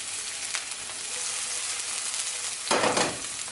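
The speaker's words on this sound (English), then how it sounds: "Going to add my scallions or green onions." Scallions hit about three tablespoons of hot grapeseed oil in a stir-fry pan for a cured lemon quinoa dish, over a steady close sizzle that swells into a louder, frothier burst near the end.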